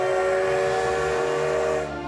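Taiwan's CT273 steam locomotive sounds one long, steady whistle blast with a rich, tonal ring. It holds for about two seconds before tapering off, with a low mechanical rumble underneath.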